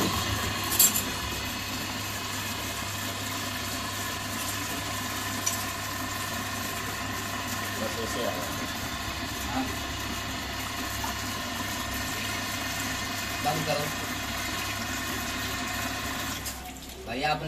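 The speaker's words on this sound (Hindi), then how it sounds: "चलो भाई मोटर चला के देखो" A faulty household water pump motor runs with a steady, continuous hum and faint clinks throughout, while people talk nearby over the drone.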